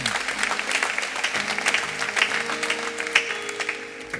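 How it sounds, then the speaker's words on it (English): Sustained applause from a congregation inside a church, steady clapping that swells slightly and then tapers off. "How about an applause for all of our visitors here today?"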